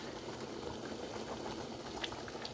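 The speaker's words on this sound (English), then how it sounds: "all you do is let it simmer the way it's simmering right now" A pot of liquid simmers on the stove over medium heat, giving a steady, close bubbling and hiss with no talk.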